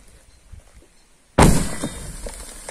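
Quiet ambience broken by a sudden loud quarry blast that booms and rumbles away for over a second, heard from a distance.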